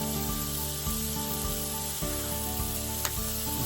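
Onions sizzling on a hot griddle while burgers are smashed, a steady loud frying hiss with faint scraping and stirring clicks.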